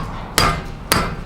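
A mallet strikes a fitting twice, about half a second apart, each blow a sharp, loud, close knock that decays quickly in a quiet room.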